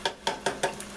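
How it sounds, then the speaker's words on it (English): Metal tongs clatter against a pan or fryer basket of frying dill pickle slices, four or five quick, close clinks in a steady rhythm with no voices. "I did take my tongs and kind of move them around a little bit"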